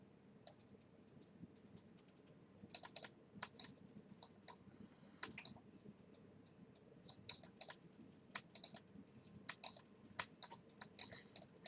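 Mouse and keyboard clicking during Diablo 3 play, with sharp irregular clicks in quick bursts over a soft low background, close by and without talk.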